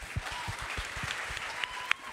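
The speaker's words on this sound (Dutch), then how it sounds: "Ik stel voor dat we nu heel erg hard gaan klappen" An audience claps at a talk event, producing soft, moderately distant applause with a loose, irregular rhythm and a few sharper individual claps standing out.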